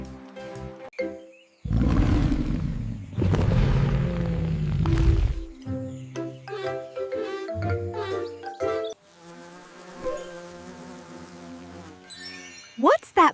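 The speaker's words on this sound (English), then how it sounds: "What's that buzzing sound?" A bee buzzes in a children's animal sound guessing game, a loud low drone heard in two long stretches among light musical tones.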